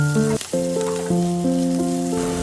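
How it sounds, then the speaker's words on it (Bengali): Onion and capsicum fry lightly in a pan with a continuous soft sizzle, largely covered by a prominent melodic music track. "ক্যাপসিকামগুলোকেও এরকমই হালকা ফ্রাই করে নেব"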